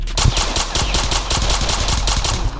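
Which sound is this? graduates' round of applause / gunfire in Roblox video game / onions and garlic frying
gunfire in Roblox video game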